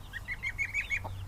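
A chicken near its coop gives a quick run of six or seven rhythmic clucks, fairly close and clear over a low background hum.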